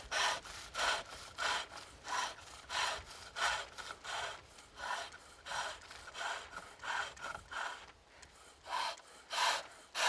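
A chisel cuts green wood turning on a foot-powered pole lathe, making rhythmic scraping strokes that come in regular pulses as the work spins back and forth, fairly quiet and close with no talk.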